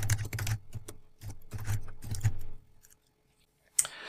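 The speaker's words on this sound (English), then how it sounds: "but let's type in a description." Someone types a description on a computer keyboard: a quick run of soft clustered keystrokes for about two and a half seconds, then a pause and one sharp final key tap.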